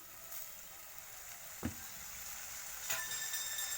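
Pumpkin greens sizzle faintly in a pan of oil, a soft steady hiss broken by a couple of brief stirring scrapes.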